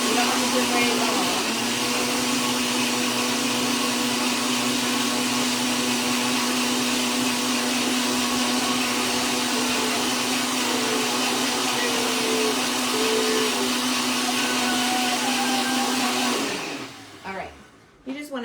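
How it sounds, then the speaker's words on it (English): A blender whirring through cottage cheese cupcake batter, a loud continuous motor whine held steady for most of the stretch before cutting off and clattering to a stop near the end. "There's the blender."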